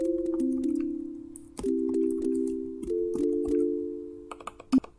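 A brush bells preset on an Operator synthesizer plays soft, sustained bell-like chords that change a few times, with brushy ticking percussive hits throughout and a few sharper clicks near the end, close and without talking.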